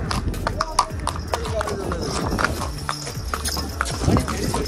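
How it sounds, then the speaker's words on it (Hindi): Hooves of a ridden horse clip-clop steadily on a hill-station road in the Galyat area near Murree in December, a continuous near rhythm of hoof strikes with people talking and background bustle. "घोड़ा सही चला"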